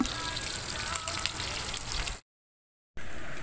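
Bullet tuna (tulingan) fries in a pan of hot oil with a steady, dense crackling sizzle. The sizzling cuts out briefly to silence, then resumes.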